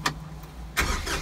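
Kioti 5310 compact tractor engine cranking and catching, a short burst followed by a broadband rumble as it fires up, close and moderately loud with no talking.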